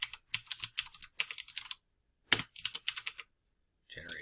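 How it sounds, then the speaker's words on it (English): Close typing on a computer keyboard comes in quick clattering bursts of keystrokes, separated by short pauses and one longer silence, ending with a brief low thud. "So I'm going to start typing."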